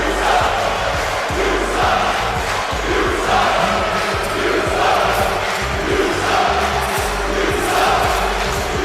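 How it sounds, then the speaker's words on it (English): A large wrestling arena crowd roars steadily through a wrestler's long entrance, with a dense, loud wash of chanting and booing and rhythmic thumps underneath. "They have been chanting and booing this man since his entrance began."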